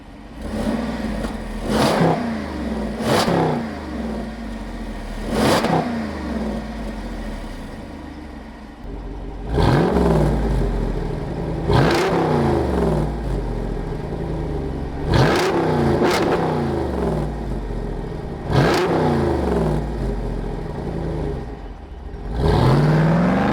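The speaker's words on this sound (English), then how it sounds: "you have active exhaust, what they call sport exhaust, and non-sport exhaust" The V8 engine of a 2023 Jeep Wrangler Rubicon 392 with active sport exhaust revs repeatedly, each loud throttle blip rising and falling over a steady rumbling idle, close up.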